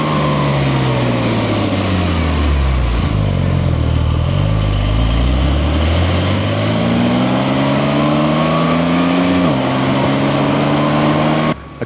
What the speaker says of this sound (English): the Turbo S sounds a bit more like a polite exhale, a sophisticated purr, if you will.